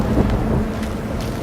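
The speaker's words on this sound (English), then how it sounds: "Belfry wasn't kidding about this storm." A heavy storm in the Gotham Knights video game, with a steady rush of rain and wind and low rumbling thunder filling the scene, loud and continuous throughout with no voices.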